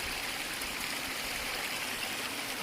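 A stream of water flows along the Loyalsock Trail with a steady, continuous rushing and babbling, close and even throughout, with no voices.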